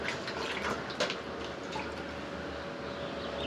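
Cut bottle gourd pieces are rinsed in water, giving a faint, steady wash of running and trickling water with a few small drips and splashes, close by and quiet.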